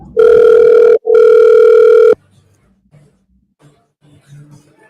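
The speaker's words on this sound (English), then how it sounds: "Your call has been forwarded to voicemail." Telephone call tones ringing loudly in two long bursts, followed by near silence with faint distant murmurs.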